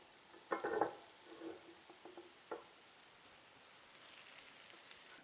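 Dough for Algerian mouraka laid on a hot tajine griddle gives off a faint, soft sizzle, with a brief louder clatter near the start and a few light taps, quiet throughout.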